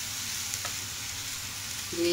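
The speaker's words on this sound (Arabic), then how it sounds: "البصل احنا هنديها تشويحه بس كده، مش هنحمرها ولا حاجه" Onions sautéing in butter and oil give a steady, soft sizzle close by, with a brief faint clink of stirring, and a low hum swells at the very end.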